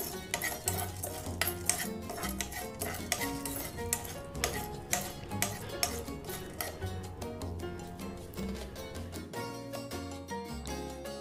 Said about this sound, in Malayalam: നമുക്കിതിലേക്ക് അല്പം ഉഴുന്നും കടലപ്പരിപ്പും കൂടി ഇട്ട് കൊടുക്കാം എന്നിട്ട് നന്നായി ഇളക്കി കൊടുക്കാം